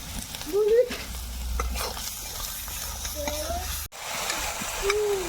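Ground spice paste fries in hot oil while being stirred, giving a steady sizzle with scraping and stirring strokes in the pan throughout, close by.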